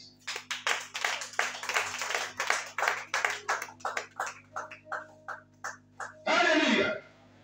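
Church congregation clapping in rhythmic bursts during a worship service, the claps dense at first and then thinning into sparser beats, with a low hum steady underneath and a brief louder crowd burst near the end.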